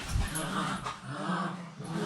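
Dogs snarling and scuffling in a rough fight, with low growls and whimpering yips running continuously at close range for a couple of seconds.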